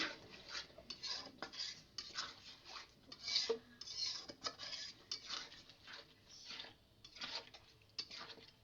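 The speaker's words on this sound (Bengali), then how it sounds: "টমেটো পেস্ট সব একসাথে এবার আমি মশলাটা কষাবো ভালোভাবে" A metal spoon scrapes and taps rhythmically in a pan as spice paste mixed with tomato paste is stirred and fried for a chicken curry, close but soft, with no talk.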